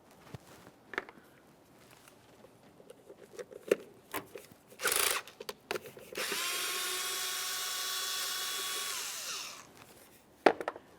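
Power tool, likely an impact driver or drill, backing out ignition coil pack mounting bolts on a 2001-2005 Ford Sport Trac XLT; scattered taps lead into a short burst, then a steady whirring run of about three seconds, with a final clank.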